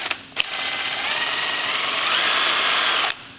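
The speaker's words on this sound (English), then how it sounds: "So I've put it on my impact drill." An impact drill whirs steadily for about three seconds, loud and close, starting and stopping abruptly.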